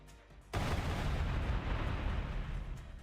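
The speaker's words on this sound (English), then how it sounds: "taking a hit and is getting knocked back from the explosion" An explosion in the Blue Archive video game bursts in suddenly after a quiet moment, then a loud, sustained rumbling roar with heavy low-end debris noise that slowly tapers off.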